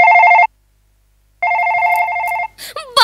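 A telephone rings on stage during a Marathi comedy sketch, two loud electronic tonal rings separated by a pause, followed by brief voices at the end.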